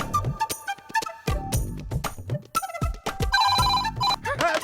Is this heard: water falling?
no